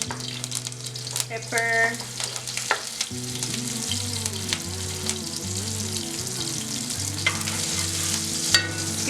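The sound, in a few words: vegetables sautéing in pan with garlic and thyme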